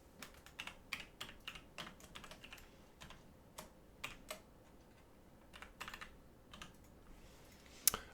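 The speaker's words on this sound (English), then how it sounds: "I'm just going to type in exactly what we just said." Rapid bursts of computer keyboard typing as an equation is entered into the Desmos graphing calculator, close and crisp, with short pauses between clusters of keystrokes and one sharper click near the end; no talking.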